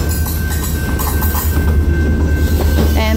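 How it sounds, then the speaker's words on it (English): A short train rolling past on the rails, loud and close, with a continuous rumble and clatter of wheels and faint squeals throughout, no voices. "That's a very short train."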